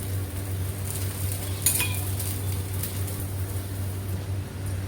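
Uttapam frying in oil on a pan over a lowered gas flame, giving a soft, steady sizzle with a low hum beneath and a faint clink of a utensil partway through.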